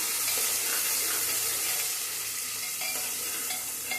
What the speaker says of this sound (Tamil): வெங்காயம் கோல்டன் நிறத்தில் நல்லா வதங்கி வரணும்